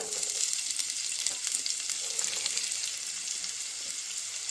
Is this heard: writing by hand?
no